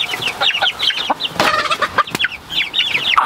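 An Icelandic rooster clucks in quick, repeated bursts up close, with other fowl noises mixed in and a short sharp sound partway through.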